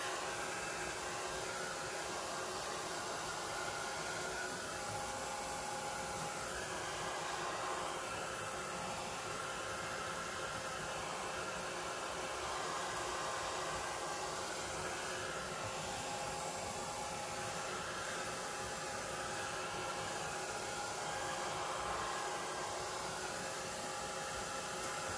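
A heat tool blows steadily while drying Nuvo shimmer powder on a craft card, a constant loud whooshing hum that runs unbroken for the whole stretch with no talking over it.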